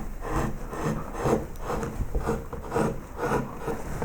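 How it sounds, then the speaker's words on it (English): A medium gouge carving shallow flutes into the wooden tail of a koi carp carving, giving a steady rasping, scraping rhythm of repeated strokes, close and fairly loud with no talk. "So we'll take a medium gouge, because we're not going to make these too deep"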